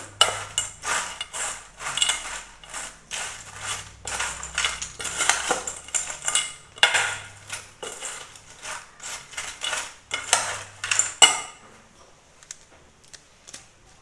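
Tomatoes being mixed in a cooking pan with a metal utensil: repeated close scraping and clattering strokes in an uneven rhythm, stopping near the end.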